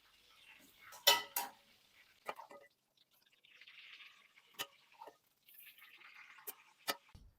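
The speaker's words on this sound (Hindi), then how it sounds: "अब मैं फ्लेम को ऑफ कर दूंगी और कोफ्ते में गरम तेल में से निकालकर एक छन्नी में डाल लूंगी" Fried chicken koftas are scooped out of hot oil with a metal spoon into a steel strainer, giving sharp metallic clinks and scrapes with soft dripping between them, close and quiet.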